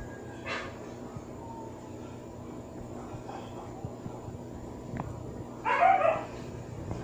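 A pet dog indoors gives a couple of short, faint yips and whines, one early and a slightly louder burst near the end, over a low steady room hum.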